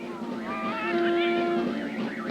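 A cartoon cave cat meows in a single drawn-out, wavering cry of about two seconds, close and clear, ending in a short sharp sound.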